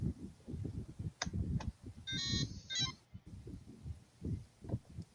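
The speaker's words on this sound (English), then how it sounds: "Oh, it beeps." A short burst of high electronic beeping rings out briefly over a steady low rumbling hum, with a couple of faint ticks before it.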